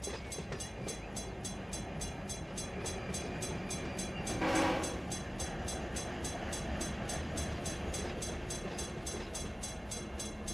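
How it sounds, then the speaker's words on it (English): Freight train in the Run 8 simulator shoving a string of tank cars back through ATSF Malabar Yard: steady rolling rumble and rail noise throughout, with a brief louder burst near the middle, no talking. "I'm just going to shove them back here. All these tankers."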